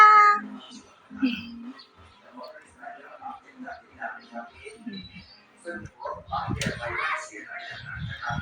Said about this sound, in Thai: เจ้าจะเมี้ยวอ่อนทำไม